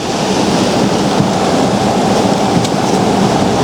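Heavy rain driven by a downburst during a severe thunderstorm, a dense, loud, continuous roar of downpour and wind buffeting the microphone with no break.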